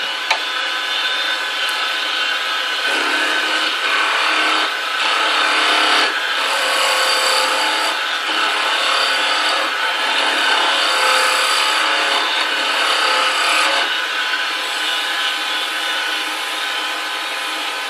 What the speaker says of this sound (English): That's probably close enough to sand now.